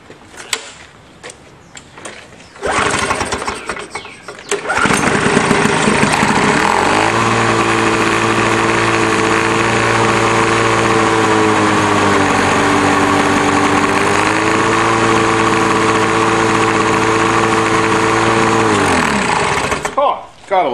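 A Lawn-Boy 4.5 hp lawn mower engine is started with the choke on after a few faint sounds, then fires and runs loud and steady for about fifteen seconds before cutting off abruptly.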